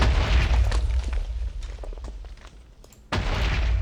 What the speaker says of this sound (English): Entity generic explode.